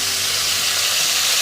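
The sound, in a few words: crabs frying in oil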